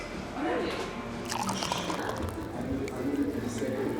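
Water poured from a big pitcher in a cafe, a liquid splash and trickle lasting a few seconds amid background chatter and room noise.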